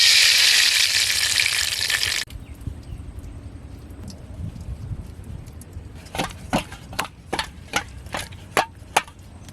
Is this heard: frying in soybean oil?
yes